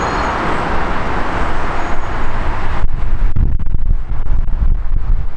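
Loud, blustery wind buffets the microphone near London Heathrow airport, a dense roar that eases into choppier gusts over low traffic-like rumble, with no voices.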